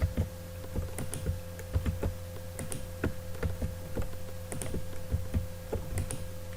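A computer keyboard being typed on at a desk, quick irregular key clicks and taps close by over a low steady hum, no talking.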